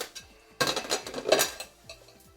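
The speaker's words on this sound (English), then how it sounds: "So what I'm going to do is I'm slicing the steak" A knife slices through cooked steak on a board, giving a short burst of close clinking and scraping of blade and utensils in the middle, then quieter taps, with no talk.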